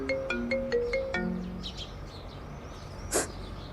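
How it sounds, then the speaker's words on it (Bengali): A mobile phone ringtone plays a short, bright melody of repeated electronic tones close by, then stops abruptly. Faint background noise and a brief rustle follow, with no speech. "আব্বা আবার ফোন দেয় কেন?"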